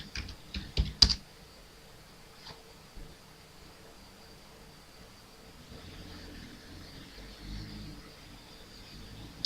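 Short burst of keystrokes on a computer keyboard at the start, then a quiet room with faint background hum for the rest of the clip.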